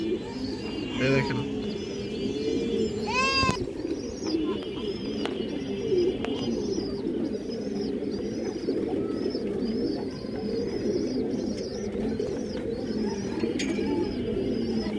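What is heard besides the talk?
pigeons cooing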